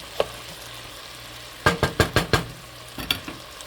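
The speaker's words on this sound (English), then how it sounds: "So we're kind of stir frying this." Vegetables stir-fry in hot bacon fat in a pan, with sharp sizzling bursts as they are tossed: one early crackle, then a quick run of four or five loud sizzles, and a few softer ones near the end over a low background hum.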